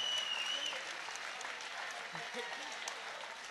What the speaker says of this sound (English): Would you please continue your applause for a great opponent from Albufeira